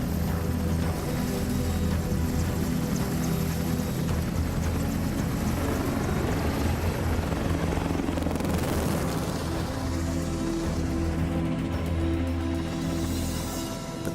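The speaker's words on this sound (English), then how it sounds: "The father of the helicopter, Leonardo da Vinci, would love to fly this helicopter" An EH-101 military helicopter flying, a steady loud broadband roar with low rotor throb running throughout, no voices.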